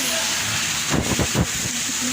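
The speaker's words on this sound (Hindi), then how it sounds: "तेज़ बारिश, बहुत तेज़ बारिश हो रही है।" Heavy rain pours down in a steady, dense hiss with no breaks, while children bathe outside in the downpour; a brief murmur of voices rises in the middle.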